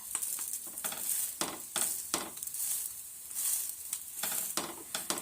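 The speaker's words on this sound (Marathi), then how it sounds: "हे आता एका साईडने व्यवस्थित असं भाजून घेऊया" Sabudana thalipeeth roasting on a hot pan gives a steady bright sizzle, broken by repeated short scraping stir bursts at an irregular rhythm, close and moderately loud with no talking.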